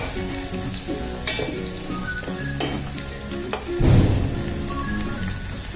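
Onions frying in oil for a peanut curry sizzle steadily while a spoon scrapes and clinks against the pan several times, ending in a louder burst of sizzling as they are stirred, close and without talk.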